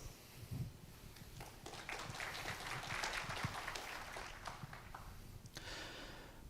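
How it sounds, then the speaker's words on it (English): Audience applause at a maritime industry conference, welcoming a speaker on alternative-powered engines: steady, moderately faint clapping from a seated crowd with no talking over it. "Please welcome him with a warm round of applause."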